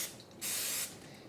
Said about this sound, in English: I'm just going to lightly grease it with some vegetable spray